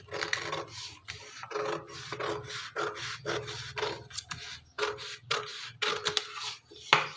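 Fabric is cut with scissors for a katori blouse, giving a steady sequence of close, rasping snips and scrapes across the cloth with brief pauses between strokes.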